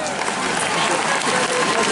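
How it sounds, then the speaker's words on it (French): A crowd at a Japan Expo costume event applauds warmly to welcome a performer dressed as Princess Tiana, a short, dense burst of clapping with crowd noise throughout. "Applaudissez chaleureusement Tiana."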